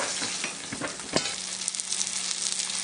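Hot oil sizzles loudly and steadily in a pan holding a browned pot roast while a spoon scrapes and dips to remove the excess fat, with a few sharp clinks and no talking.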